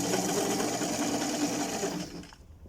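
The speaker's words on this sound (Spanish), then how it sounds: "vamos a hacer un ensayo de costura. Hacemos un ensayo manual para ver que no tengamos problema y avanzamos." A Singer 875 sewing machine runs a test seam, a loud close rapid whir of stitching that holds steady for about two seconds, then winds down and stops.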